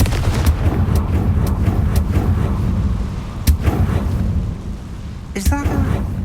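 A Confringo fire spell bursts in Hogwarts Legacy on PS5 Pro: loud, booming blasts and cracks over continuous rumbling game sound, then a sharp final burst with a ringing tail.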